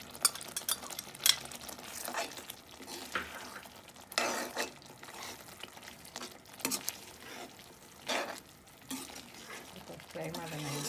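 Raw paneer cubes for paneer butter masala are stirred and fried in a pan. A spoon scrapes in repeated bursts over a soft sizzle, close by, with brief low voices between the strokes.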